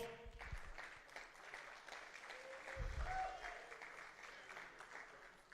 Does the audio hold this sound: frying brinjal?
no